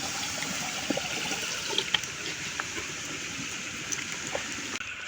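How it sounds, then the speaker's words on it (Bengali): Water is poured into a bamboo tube to cook rice and chicken over a village fire, making a continuous soft splashing gurgle at moderate level with a few faint clicks, and no talk. "জল দিয়ে দিলাম।"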